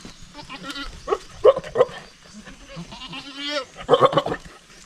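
A mother goat and her two kids, one female and one male, bleat repeatedly in a string of loud, close, wavering calls, some overlapping, with short pauses between bursts.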